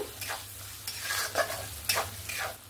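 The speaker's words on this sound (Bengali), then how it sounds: "দিয়ে আবারও 1 মিনিটের মতো মশলাটাকে নাড়াচাড়া করে নেব" Spices including Kashmiri chilli powder sizzle in a pan for mixed dal while a spatula stirs them, giving several close, distinct scraping strokes over a constant soft frying hiss.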